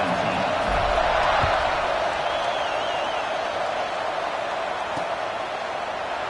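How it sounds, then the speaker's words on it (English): Stadium crowd in the college football video game College Football 26, South Carolina vs Florida, keeps up a steady, loud, broadband roar that swells slightly early on and then holds evenly throughout. "this crowd is buzzing after that last score"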